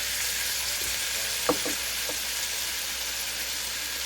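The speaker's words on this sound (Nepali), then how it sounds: "नुन राखेँ टमाटर राखेर आफ्नो स्वाद अनुसार मिक्स गरिदिउँ" Tomato and salt frying in a pan for asparagus curry, with a steady close hiss of sizzling and a few faint stirring scrapes partway through.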